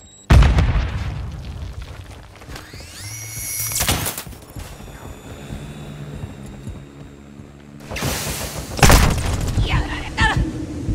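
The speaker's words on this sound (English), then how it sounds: "Semtex を投げる!" A Semtex grenade exploding in a Call of Duty match, a heavy boom at the start followed by further sharp blasts and a loud detonation near the end amid battlefield noise and radio voices.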